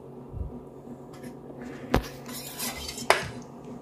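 Waffle batter being stirred into flour in a bowl, with scraping and tapping of utensil against the bowl and a couple of sharp clinks standing out near the end, no talking.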